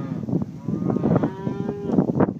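Hereford cattle lowing in a grassy pasture outside Gonzales, Texas, with several overlapping moos rising and falling over a steady background of other cattle, some drawn out and close, others fainter.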